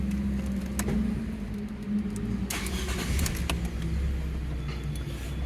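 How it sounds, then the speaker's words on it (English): A car engine idles roughly with a steady low rumble because of a faulty MAP sensor, heard up close. The sound continues without a break, and a few faint clicks and rattles sit on top of it. "you can have rough idle, that's what I have"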